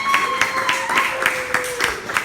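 Comedy club audience at the Engine Room in White River Junction, Vermont, giving a few sharp scattered claps at an irregular rhythm, fairly loud, while someone speaks over them.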